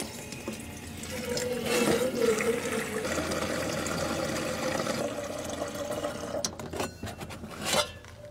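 Water runs steadily from a camper trailer kitchen tap fed by a battery-powered pump, a continuous close splashing flow lasting several seconds, with a few clunks and rattles near the end.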